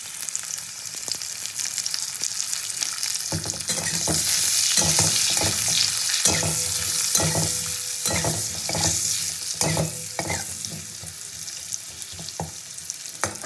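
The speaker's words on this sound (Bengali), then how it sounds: "তা আলুটাকেও আমি খুব ভালো করে ভেজে নেব।" Sliced potatoes fry in hot oil in a pan with turmeric stirred in, a steady bright sizzle running throughout, broken by repeated scraping knocks of a spatula stirring them.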